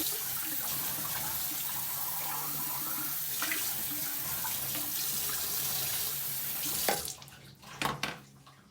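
Water runs steadily from a bathroom faucet to rinse gunky sink drain parts into a tub, a continuous near splashing stream that cuts off near the end, followed by a few hard clunks and knocks.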